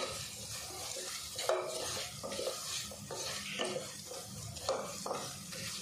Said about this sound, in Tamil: மசாத்தூள் சேர்த்துட்டு நல்லா வதக்கி விட்டுட்டேன்.